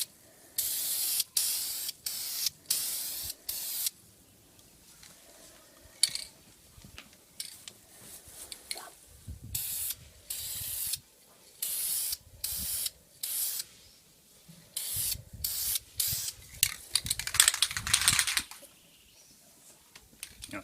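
Spray can misting fine coats of chrome paint over black on front bumper vents of a 1999 Subaru WRX, a run of close, sharp hissing bursts of varying length with short pauses between.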